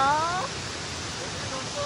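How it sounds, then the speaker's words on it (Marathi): Waghbil waterfall in Badlapur roars as a dense, steady rush of falling water, with a voice heard briefly at the start over the noise. "बाबू लय बेकार रे धबधबा"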